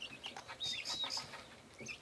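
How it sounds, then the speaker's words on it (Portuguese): Chickens cluck while feeding on a small rural farm, with a rooster nearby. Short, close clucks and chirpy calls come in quick bursts over about two seconds, with no one talking. "E as galinhas estão se alimentando."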